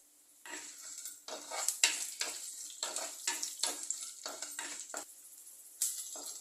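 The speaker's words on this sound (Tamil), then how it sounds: "பூண்டு காஞ்ச மிளகாய் வெங்காயம் தக்காளியெல்லாம் போட்டு நல்லா ஃப்ரை பண்ணிக்கலாம்" Garlic cloves, dried chillies, onion and tomato fry together in a pan, with a bright hissing sizzle cut by rhythmic stirring scrapes and metallic knocks, close and fairly busy.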